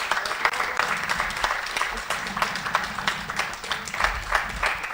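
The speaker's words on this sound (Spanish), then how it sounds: "primero yo creo que esto merezca más que un aplauso" An audience at a talk on photography, science and art applauds with a moderate, uneven patter of clapping hands, fairly close, with some voices mixed in beneath the clapping.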